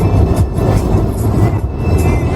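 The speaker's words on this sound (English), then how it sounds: "Because we are currently on the train, we will be going to Luxor." Continuous rumble and clatter of a train travelling to Luxor, Egypt, heard from inside the carriage, steady and loud with rhythmic low-pitched wheel noise.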